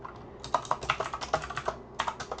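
Computer keyboard keys clattering in quick, uneven bursts while C# code is typed, close and clear, with a short pause before a final flurry of keystrokes.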